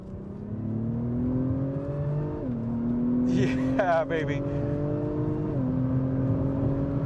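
A 2025 Acura TLX Type S in Sport Plus accelerates hard from inside the cabin. The engine note climbs steadily, dipping at each upshift, while a voice briefly cheers over it.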